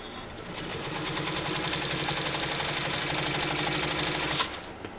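A post-war Japanese Revere Model 60 Deluxe sewing machine stitching through snake skin, its needle hammering in a fast, even rhythm for several seconds before stopping abruptly.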